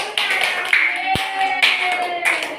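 Classroom of students clapping their hands together in a quick, fairly soft burst of applause, with voices mixed in throughout.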